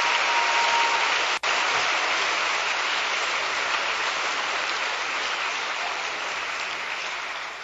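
A school assembly audience gives a round of applause for an Assemblyman, a dense, steady wash of clapping that fills the whole stretch and tapers slightly toward the end.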